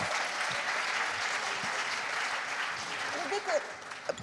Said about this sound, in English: clap the hand for Europe